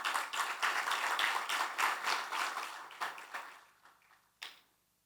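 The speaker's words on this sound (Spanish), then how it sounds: "a quien recibimos con un fuerte aplauso" An audience claps to welcome a panelist, Copa Airlines' business continuity director, at a supply-chain resilience panel; steady moderate applause that thins out and fades, ending with one last isolated clap.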